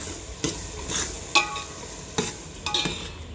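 Onion frying in a pan with baking soda, with a soft steady sizzle broken by several sharp scrapes and clacks of a spatula stirring against the metal.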